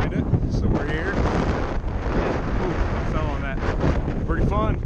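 Strong wind buffets the microphone at the front of a sailing boat off Martha's Vineyard, a constant rough roar throughout, with brief voices faintly heard beneath it.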